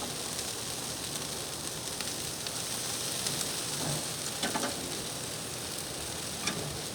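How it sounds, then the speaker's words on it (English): Steady, close sizzling of chicken wings on a hot grill, a constant crackling hiss with occasional louder pops and spits. "listen to it sizzle"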